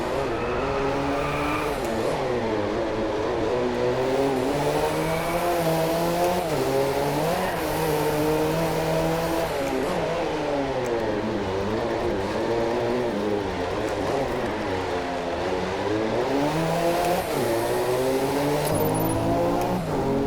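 A racing car engine in the DriveClub video game on PS4, heard from an in-car view, whines continuously, rising and falling as it shifts through gears and accelerates out of corners. The sound is loud and steady throughout.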